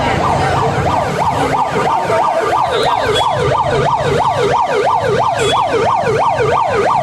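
A loud, close ambulance siren wails in a fast rising-and-falling cycle, continuous throughout over traffic noise.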